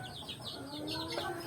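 A Texas-breed rooster on a small family farm clucks in a short run of repeated calls, faint and somewhat distant, with no talk over it.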